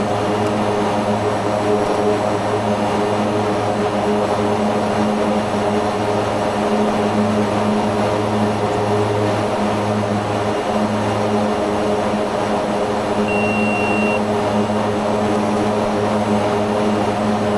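A Mitsubishi MU-2B-60 turboprop climbing after takeoff in a flight simulator, its steady propeller and engine drone holding loud and unbroken throughout.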